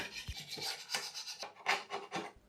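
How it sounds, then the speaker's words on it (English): A painter's tool scrapes sticky residue off an old secretary desk, a series of close, quiet raspy strokes repeating irregularly, with no voices. "I took my painter's tool and I just made sure to scrape everything off"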